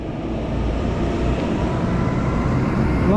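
A tractor and a car passing on a road at a village border crossing by the Montgomery Canal, giving a steady, fairly loud rumble of engines and tyres close by with no speech over it.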